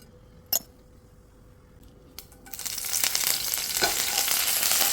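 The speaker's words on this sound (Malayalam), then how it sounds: "അതിലേക്ക് ഒരു പിടി കറിവേപ്പില ഇട്ടു വറുക്കാം." A handful of curry leaves dropped into hot coconut oil with mustard seeds for a spicy raw mango dish, starting after a few clinks of a utensil and swelling into a loud, steady crackling sizzle.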